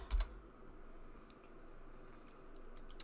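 Fingers type text on a computer keyboard, a series of quiet, scattered key clicks over faint room hum, preceded by one louder thump at the very start.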